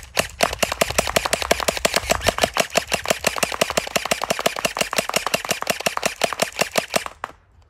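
A gel blaster set to single fire, shooting in a fast, steady run of sharp clicks that carries on for about seven seconds before it stops.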